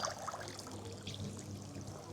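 Liquid pours in a steady, soft trickle for about two seconds amid quiet room murmur, close by and fairly faint, with no clear speech over it.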